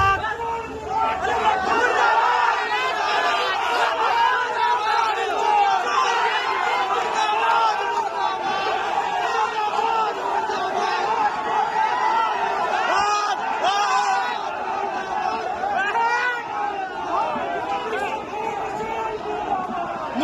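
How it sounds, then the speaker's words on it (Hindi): A large, angry crowd at a political rally in Bihar shouts and chants slogans against an MLA, a dense, continuous roar of many voices with overlapping yells throughout. "वोट चोर मुर्दाबाद, और मंच से नारे भी लगे हैं।"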